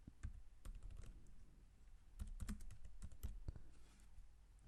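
Rapid typing on a computer keyboard during data entry in ERP software, a steady stream of close, crisp key clicks with a few heavier strikes, no voices.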